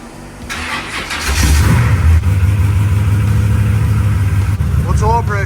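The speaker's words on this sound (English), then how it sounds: "Outside of the typical piston slap that you hear when the engine's cold, the engine sounds completely normal." A Chevrolet Malibu drag car with a nine-second time slip cranks and fires up cold, then settles into a loud, steady idle with a faint ticking of piston slap; voices talk over the running engine.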